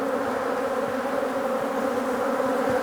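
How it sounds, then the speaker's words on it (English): A dense, steady hum of many honey bees buzzing close by in an open hive, continuous and even throughout with no talking. "it's cool to see to look down in there and see all the bees"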